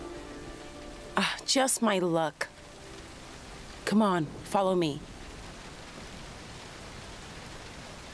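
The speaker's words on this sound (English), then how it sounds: "It's raining!" Rain hisses steadily in the background of the video game Road 96 while a voice speaks two short lines over it, then the rain continues alone.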